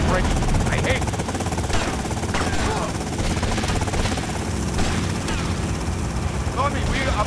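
A helicopter in GTA Vice City churns under a busy mix of bursts that sound like gunfire, with a speaking voice over a loud, steady rotor drone and repeated sharp impacts.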